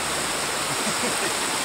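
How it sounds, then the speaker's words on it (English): Broadband rushing water of a flowing unnamed river, steady and close, with no voices. "Here we are on an unnamed river."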